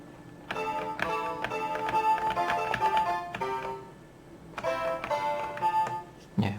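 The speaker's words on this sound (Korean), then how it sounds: "4번이면 홍키통키 피아노" A honky-tonk piano patch from a piano program for X Window plays a busy melody with chords, with a brief pause partway through before the line resumes, clear and close with no talking.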